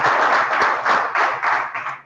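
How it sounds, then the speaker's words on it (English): Audience applause from a live charity magic show crowd after a magic square trick, several pulsing bursts of close, loud clapping over about two seconds with no talk. "That's a really nice round of applause"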